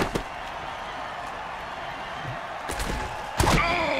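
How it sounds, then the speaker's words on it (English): A heavy tackle impact in the Mutant Football League video game, with a sharp slam followed later by a louder thudding hit and a rising swell of crowd noise. "Vicious hit, and the crowd loves it."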